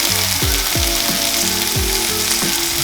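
Green chillies sizzle and crackle in a hot frying pan for tandoori chicken gravy, with rhythmic scraping strokes of a spatula stirring them, close and steady with no talking.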